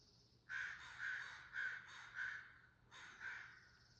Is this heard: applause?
no